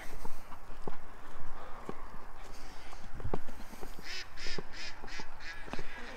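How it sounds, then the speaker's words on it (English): Ducks being fed quack and chatter nearby in a dense, continuous mix, with rustling and a short run of louder calls toward the end. "let's feed the ducks"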